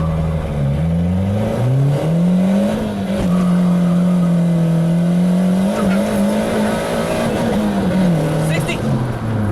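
A car with a GA16DET engine accelerates hard from a standstill through the gears, its loud engine note rising and dropping at each upshift, with a person talking over it.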